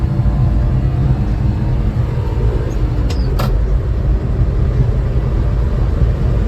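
A Honda ACTY mini truck climbs a hill in third gear, its engine a steady, loud, low drone that holds evenly throughout, with a brief faint higher sound partway through.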